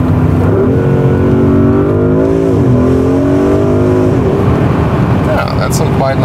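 A Porsche Cayenne Turbo Coupé V8 engine and exhaust rev loudly, the pitch climbing and dipping in a few swells, while someone talks over the steady rumble.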